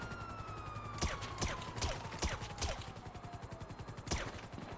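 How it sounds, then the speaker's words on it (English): Gunfire in the video game GTA 5, a handful of sharp shots spaced about half a second apart at moderate distance, over a steady engine-like drone and a descending whine. "They're shooting back!"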